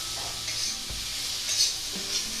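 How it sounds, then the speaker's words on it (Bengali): Cabbage with turmeric being stirred in a frying pan, a soft continuous sizzle with scraping strokes of a spoon around the pan, close and moderately quiet, with no voices. "একটু নাড়তে থাকবো।"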